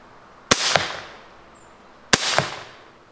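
Two loud, sharp shots from a Ranchero double-barrel arrow pistol, spaced about a second and a half apart, each a crisp crack with a second snap just after and a short decaying tail.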